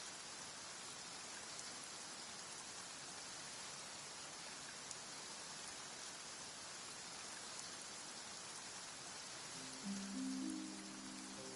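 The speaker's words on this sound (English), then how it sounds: "Why is it raining all of a sudden?" Steady rain pours down evenly in the game Genshin Impact, a constant soft hiss of drops with a brief low murmur near the end.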